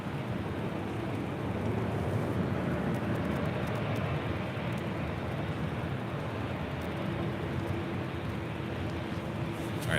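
Airliner jet engines roar steadily at LAX airport, with a broad, continuous rumble and no distinct breaks.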